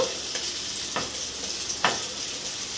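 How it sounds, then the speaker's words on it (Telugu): Chillies fry in hot oil for a Rayalaseema chilli powder, with a steady broadband sizzle broken by a few scraping stirs of a spoon through the pan. "మనకు మిర్చి బాగా కుక్ అయిపోయింది ఆయిల్లో మనం ఇప్పుడు మిర్చిని ఒక సైడ్కి తీసేద్దాము"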